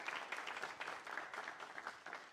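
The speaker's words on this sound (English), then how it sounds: "could everybody please give her a round of applause?" An audience applauds at a live-streamed engineering event, a dense, fairly faint patter of clapping that holds steady for a couple of seconds.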